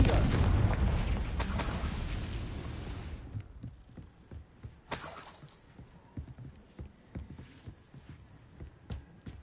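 A Confringo spell explosion in the video game Hogwarts Legacy: a loud, broad blast that rumbles for a few seconds and fades, then a second sharp burst, followed by scattered crackling debris pops.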